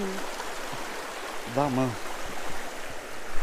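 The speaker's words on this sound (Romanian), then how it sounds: "Deci avem cu o cascadă, așa mai mică." Small waterfall on a mountain river in the Apuseni Mountains, a steady rushing wash underneath, with someone speaking briefly over it.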